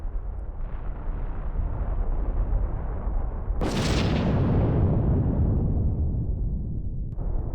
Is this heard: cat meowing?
no